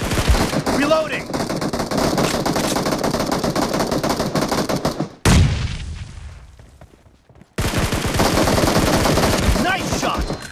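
Rapid automatic gunfire from a BGMI team deathmatch game, loud sustained bursts with a short lull around the middle before firing resumes.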